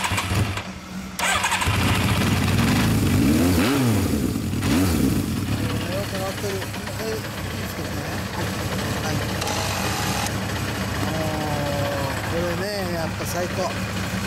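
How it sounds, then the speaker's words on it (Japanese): A 1984 Suzuki GSX750S Katana, third-generation model, with a Mid Knight exhaust starts and revs up, its loud engine note rising and falling in blips over a steady idle, close by, with people talking faintly in the background. "エンジン音聞かせてもらえる？"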